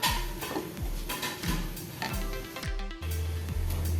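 Metal spoon scraping and clanking around a pan as cabbage egg bhurji is mixed with garam masala and coriander powder, repeated close strokes in a steady rhythm with no talking.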